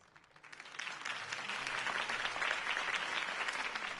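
Crowd applause at a campaign speech in a Batman video game, rising from quiet into a sustained, fairly distant wash of clapping that holds steady to the end.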